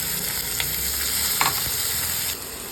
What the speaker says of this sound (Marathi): पॅनमध्ये तेल घालून घ्यायचं आहे, जिरं घालायचं आहे, मोहरी घालायची आहे